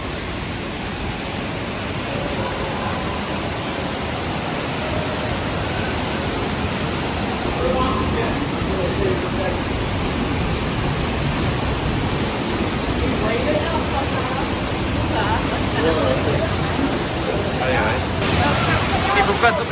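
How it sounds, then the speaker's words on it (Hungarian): A waterfall pouring during steady rain on a hiking trail near Lake Garda, a dense, continuous roaring hiss of falling water that stays loud and even throughout. "Kibukkantunk a vízesésnél,"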